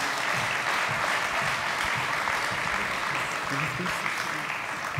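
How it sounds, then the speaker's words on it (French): An audience at a book award ceremony applauds the winner of the best novel prize, steady, moderately loud clapping with faint voices murmuring underneath. "Vous pouvez l'applaudir."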